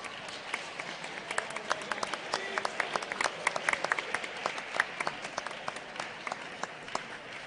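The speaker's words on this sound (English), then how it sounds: "One more round of applause for our CLS Civic Readiness students." Scattered clapping from an audience at a school board of education meeting, honoring students; fairly faint and distant, with irregular sharper claps popping out of a soft, steady wash.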